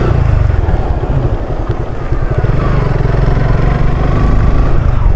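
A motorcycle rolling slowly along a road in Bandarban, its engine a loud, steady low rumble with constant wind buffeting close to the rider.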